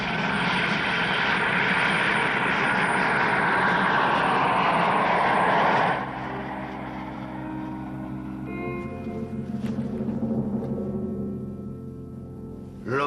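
A helicopter flying away, a loud broad whirring roar that cuts down sharply after about six seconds into a fainter, lower drone with scattered tones, no talk.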